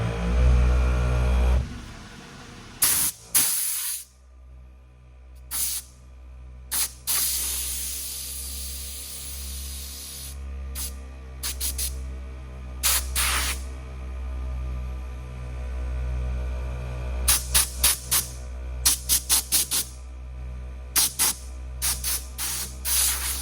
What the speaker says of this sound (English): this thing actually moves quite a bit of air